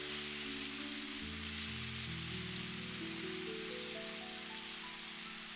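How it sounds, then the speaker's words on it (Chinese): Minced ginger and garlic stir-frying in a wok over low heat, a dense, even crackling sizzle heard up close and continuously with no talk, a low steady hum running underneath. "接下來加入切好的薑蒜末，小火煸炒出薑蒜的香味"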